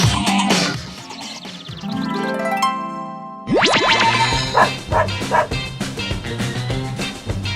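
A cartoonish dog in a quirky video game barks a few times over bouncy, springy game sound effects and music, loud and close.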